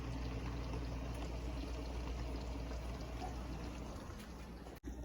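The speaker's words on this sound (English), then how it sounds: "take it out this pot and pour it in my drainer and get this pasta rinsed off" Cooked pasta and its water poured from a pot into a drainer, giving a steady, close, rushing pour that carries on throughout with no talking.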